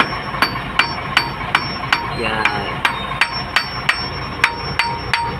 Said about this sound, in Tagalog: Nakapatay pa, pinukpok ko na.